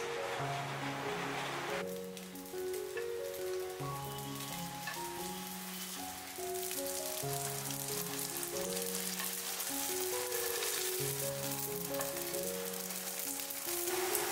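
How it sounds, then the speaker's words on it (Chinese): Hakka glutinous rice cakes, steamed, cooled and then pan-fried, hiss and sizzle steadily in the pan beneath continuous louder background music. "不过我们家呢还会放凉了之后再煎一下，吃着更香"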